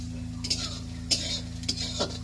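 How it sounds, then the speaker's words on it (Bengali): Onion, garlic and green chilies fry quietly in a wok under a low steady stove hum, with a few soft stirring scrapes and clinks from a utensil spaced through the short stretch. "এখন এই কাঁচা লঙ্কাগুলো পেঁয়াজ রসুনের মধ্যে দিয়ে দেবো"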